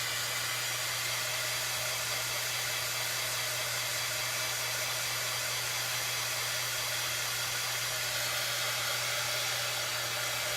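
A heat tool blasts a constant, loud rush of air, drying chalk paint on the top of a wooden tiered tray box, with no pauses and no speech.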